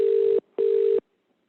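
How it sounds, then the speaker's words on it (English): A mobile phone plays a video call ringing tone: two loud, steady electronic tone bursts with a short gap between them, then silence. "So that's actually ringing on my mobile device here."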